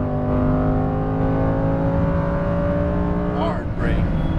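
A Lamborghini Huracan Performante engine pulls hard on a race track, a loud sustained climbing roar rising steadily in pitch, then a brief dip and shift near the end with tire noise.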